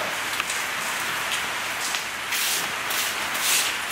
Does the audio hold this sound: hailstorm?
yes